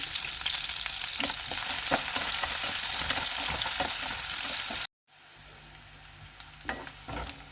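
Onion and garlic frying in a pan until golden, a loud, dense crackling sizzle that cuts off abruptly, then resumes softer with a few spatula knocks.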